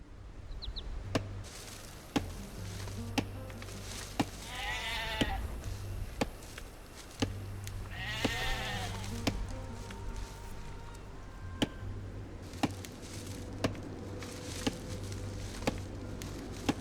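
Sheep bleat twice in Age of Empires II on Xbox Series X, moderately loud, over steady game ambience with a low hum and periodic sharp clicks and chops.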